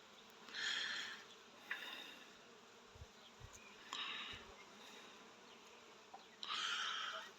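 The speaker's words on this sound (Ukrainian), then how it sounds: "Бджола працює на липі." Honey bees buzz on flowering linden branches: a low constant hum of many insects, with louder passes as individual bees fly close, plus a few soft thumps.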